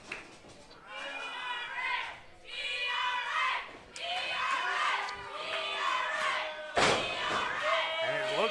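A crowd at an underground wrestling show reacts to a missile drop kick with scattered shouts, cheers and chants, a sharp slam cutting through near the end, all under loud, overlapping voices.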